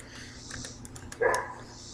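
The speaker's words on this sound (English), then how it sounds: "And a woof woof, there we go again." A pet dog gives a short bark or yip indoors, a single brief sound nearby that is fairly faint.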